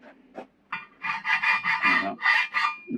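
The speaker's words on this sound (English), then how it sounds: "and then a file just to get a true surface" Hand file worked across the bed of a mini lathe, smoothing the metal to a true surface: a run of close, rasping strokes, several in quick succession, loud and near with no talk.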